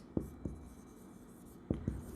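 A pen writes a journal-entry narration in an accounts book, giving a few soft close taps and faint scratches against a quiet room background.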